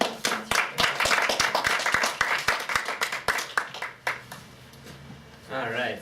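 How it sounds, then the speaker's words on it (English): A small audience claps for a speaker at a mental health talk, the claps loud, close and separate in a quick uneven rhythm, thinning out before a voice starts speaking. "round of applause"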